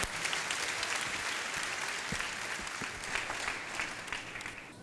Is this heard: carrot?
no